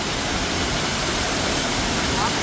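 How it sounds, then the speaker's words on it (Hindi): A natural waterfall in Uttarakhand's hills pours down during heavy monsoon rains, a steady, dense rushing roar that holds unbroken and fairly loud throughout, with no voices over it. "नेचुरल झरना बहता हुआ।"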